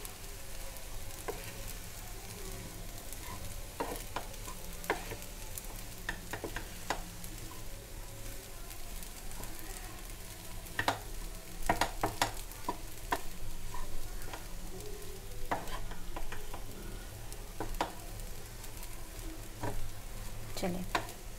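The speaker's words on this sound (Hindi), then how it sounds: "अब इसको इस तरह से हम मिक्स कर लेंगे।" Homemade pasta is mixed in a pan, a steady low sizzle with scattered clicks and scrapes of the utensil through the noodles, close and fairly quiet, continuing throughout.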